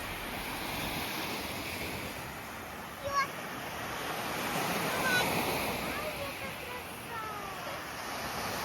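Sea waves wash continuously onto a beach at Hrybivka, Ukraine, the surf swelling midway, with faint distant voices in the background.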